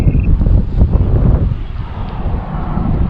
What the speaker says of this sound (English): Now there's wind up here.